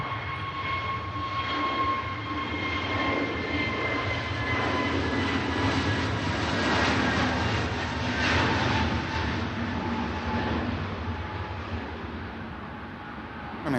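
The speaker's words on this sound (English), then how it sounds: "Here goes the EasyJet for Tenerife" EasyJet airliner departing Manchester Airport for Tenerife, a sustained jet engine roar with faint tonal whines, swelling and then easing slightly.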